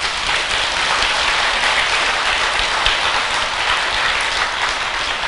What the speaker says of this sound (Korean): 열심히 살고 계신 스님들한테도 박수 한번 보내주세요.